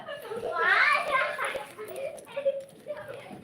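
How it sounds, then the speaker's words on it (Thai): Children play and shout together at a lively pitch, mid-distance, their chatter rising and falling through the moment in a Thai setting. "เสียงเด็กเล่นกันเจียวเลย"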